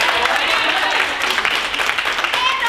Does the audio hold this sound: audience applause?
yes